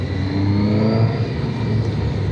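A 2019 Suzuki GSX-S 750 motorcycle engine accelerates through tight corners, a loud, steady rising drone heard close with no voices.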